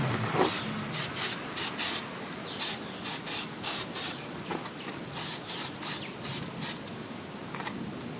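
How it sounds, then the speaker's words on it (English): A spray can applies coating to bare car body metal before welding, giving repeated short hissing bursts with brief pauses between them, close and fairly quiet. "I'm going to go ahead and spray the metal areas that's going to be welded"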